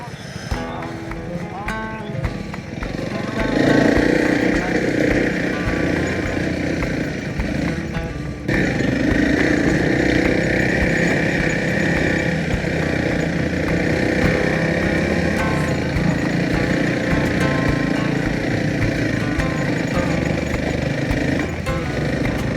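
A motorcycle with a changed sprocket revs hard while riding on sand, its engine a loud, continuous droning roar that rises and holds close to the microphone throughout.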